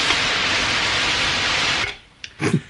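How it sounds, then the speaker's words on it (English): Synthesizer white noise hisses loudly and evenly, like surf or steam, then cuts off abruptly, leaving a quiet gap with a couple of faint short sounds. "it sounds like I mean, surf or a steam sound. It's called white noise."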